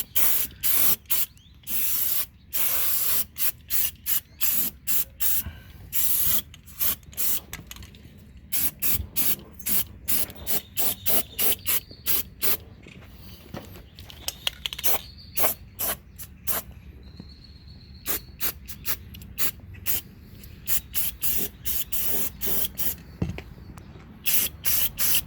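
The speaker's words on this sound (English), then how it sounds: "you can go ahead and throw some spray paint in there." Repeated bursts of aerosol spray paint hissing onto cut Cherokee XJ fender edges, short sprays in quick succession with brief gaps, close and fairly loud throughout.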